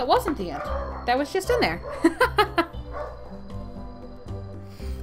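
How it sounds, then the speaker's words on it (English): Several dogs bark and yip in short bursts in a home, mixed under a person talking casually nearby. "Sorry about my dogs, I can't get them to stop barking to save my life."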